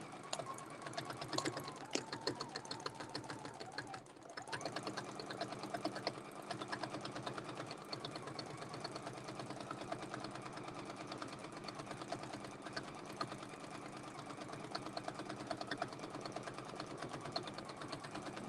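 Sewing machine quilting along a ruler template, a close, steady rapid needle chatter running almost unbroken with one brief pause early on, no talking.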